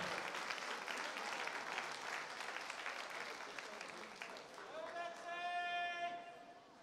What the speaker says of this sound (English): give her a big round of applause please as the Hoddesdon swimmer touches